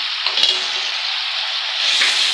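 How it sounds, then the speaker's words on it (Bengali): A yogurt and gram flour mixture for kadhi sizzles and fries steadily in a pan, a continuous close hiss with a brief stirring clatter early on and a slight swell near the end. "এগুলো একটু ফ্রাই করে নিই।"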